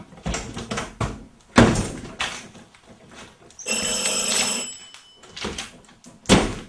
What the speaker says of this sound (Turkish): Kapak kapısı sesi.